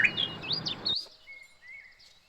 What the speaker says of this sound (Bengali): চুপ করে বসে না শুধু পাখির আওয়াজ শুনছিলাম